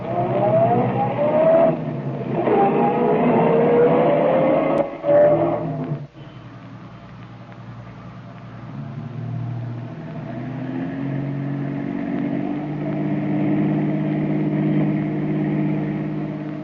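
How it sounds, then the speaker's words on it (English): A taxi cab drives through heavy city traffic as an old-time radio mystery drama sound effect: a steady, fairly loud engine drone that shifts and eases after a brief knock midway, then runs on evenly with no voices. "Hey, that cab's pulling up to the curb."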